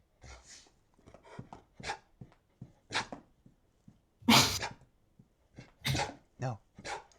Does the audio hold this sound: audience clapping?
no